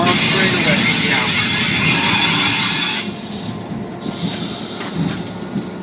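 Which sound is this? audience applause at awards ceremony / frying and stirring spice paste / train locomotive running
train locomotive running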